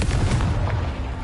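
A Confringo fire-blast spell explodes in Hogwarts Legacy, a low rumbling boom with a crackling burst that fills the short moment, loud and steady with no talk.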